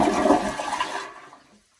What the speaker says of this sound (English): But yeah, I can flush the toilet.